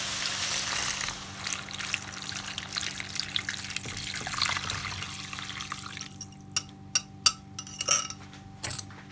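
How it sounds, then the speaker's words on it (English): A litre of vegetable stock is poured into a pot of softened vegetables for summer pistou soup, a soft continuous trickle followed by a few clear drips and clinks near the end. "it's now time to add in our litre of vegetable stock."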